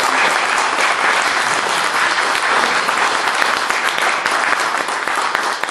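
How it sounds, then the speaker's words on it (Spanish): A library recital audience breaks into steady, dense applause, an even roar of many hands clapping that holds at full strength from start to finish without talk. "a la cual pido un aplauso."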